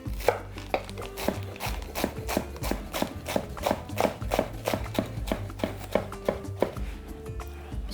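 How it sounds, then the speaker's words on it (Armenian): Lettuce leaves are cut into ribbons with a knife on a board: a quick, even series of crisp chopping knocks, close and clear, continuing without pause. "Մառուլի տերևները կտրատում ենք ժապավենների"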